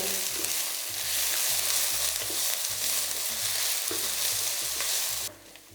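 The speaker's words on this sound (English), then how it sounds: "I'm going to fry these on a medium heat for about 4 to 5 minutes until they're softened" Onions fry and are stirred in a pan over medium heat for a one-pot chicken curry, a steady close sizzle broken by repeated scraping strokes of a utensil, with no voices.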